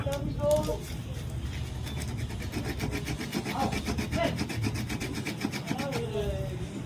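A 925 silver-toned piece is filed to test it, a steady scraping rasp under someone talking almost throughout.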